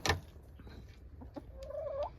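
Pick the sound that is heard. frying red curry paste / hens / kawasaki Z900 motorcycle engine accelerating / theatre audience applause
hens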